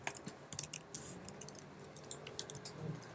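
Rapid, uneven clicking of keys on a computer keyboard with a slow office machine, close and fairly quiet, with scattered louder key strikes and no talking.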